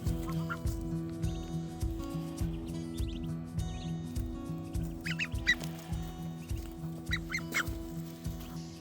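Nine farm ducklings peep and cheep continuously at close range, a busy overlapping chorus of small high calls over a steady low background hum, with no talking.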